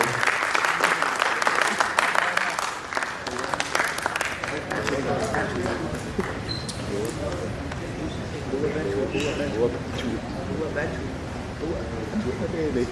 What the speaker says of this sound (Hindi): तालियां बजाते रहिए भाई साहब।